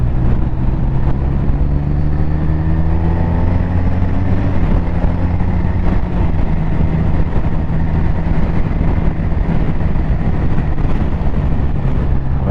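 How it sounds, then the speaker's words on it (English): BMW R 1250 RT LE touring motorcycle in Road mode, its engine pulling steadily with rising harmonic tones as it picks up speed, a continuous loud drone with wind noise throughout and no talk. "you just start twisting that throttle and it just goes, picks up"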